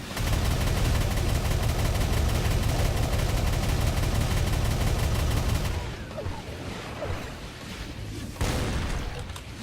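In the game Doom 2, rocket launcher fire and explosions roar in a dense, loud barrage for several seconds, then give way to scattered blasts and quieter combat noise.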